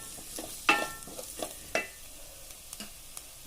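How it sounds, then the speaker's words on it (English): A spoon stirs mutton kofta curry masala in a hot pan. The oil sizzles steadily while a few sharp metallic clinks ring out from the utensil, with no talking. "I'm going to give it a quick stir"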